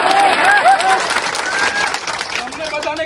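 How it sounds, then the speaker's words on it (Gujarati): An audience claps and cheers at a political rally, loud and dense at first and then thinning, with voices mixed into the crowd noise. "તમારી તાળીઓ સાંભળવા હું નથી આવ્યો આટલી દૂરથી"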